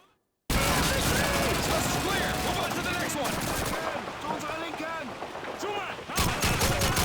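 Rapid bursts of machine gun fire in the World War II shooter Call of Duty 2, dense and continuous with other gunfire and battle noise, loud and close, with voices shouting over the fighting.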